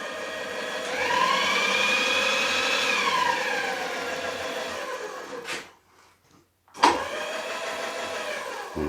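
Craftex CX603 knee mill power feed running at rapid traverse, a loud steady motor whine with rising and falling pitch that cuts out briefly near the end, then restarts with a sharp surge and winds back up.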